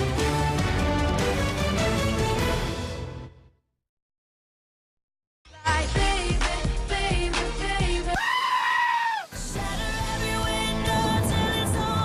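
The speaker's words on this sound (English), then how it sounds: "You've clicked on at least one of those goat remixes that are going viral" A goat bleats in a viral goat remix, its loud wavering cry landing over dense music, which cuts to full silence and then returns.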